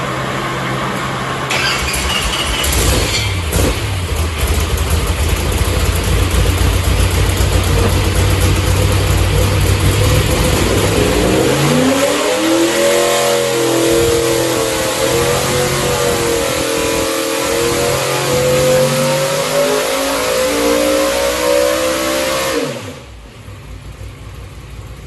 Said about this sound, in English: So let's look at the dyno results and listen to a dyno.